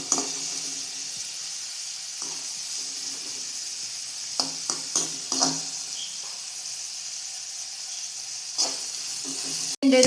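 Dried prawns fry in a pan with a steady, soft hiss of hot oil, broken by a few brief stirring knocks and scrapes.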